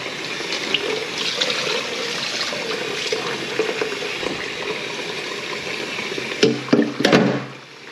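Tap water runs steadily over cooked octopus being rinsed and cooled in a sink, a close continuous splashing stream with a few louder gushes and knocks near the end.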